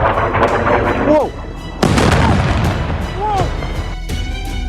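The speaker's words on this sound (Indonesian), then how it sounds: "Rudal Iran menghantam kawasan permukiman dan menyebabkan puluhan orang terluka." Iranian missile strike explosions in a residential area, several loud booms and blasts in quick succession, with people exclaiming and voices shouting between the impacts.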